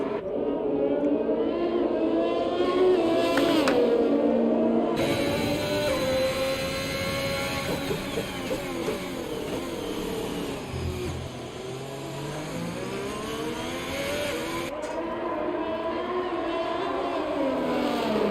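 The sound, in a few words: race cars driving laps at Monaco in a sim racing video game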